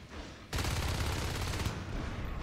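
Sustained rapid gunfire from a Natural Selection 2 match, a loud dense burst of automatic shooting lasting just over a second, then tailing into quieter background noise.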